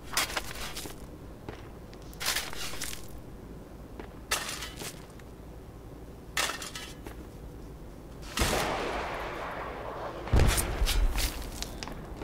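Bursts of video-game gunfire and heavy artillery-like blasts in a tank battle, several loud broadband volleys spaced a couple of seconds apart, with a bigger booming impact near the end.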